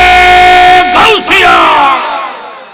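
A large congregation at an Islamic sermon gathering in Bangladesh shouts a religious slogan in unison, answering the preacher. The chant is a loud, single, sustained collective cry lasting about two seconds, then fading away.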